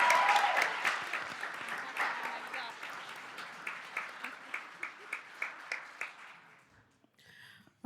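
Audience applause fills a school district governing board meeting, starting dense and loud, then thinning into a few scattered, evenly spaced claps that fade to near silence.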